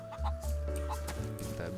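A chicken in the survival video game DayZ clucks several times in quick, uneven bursts over a steady low in-game hum and tonal drone.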